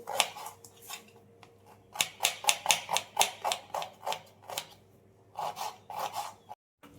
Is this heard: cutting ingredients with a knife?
yes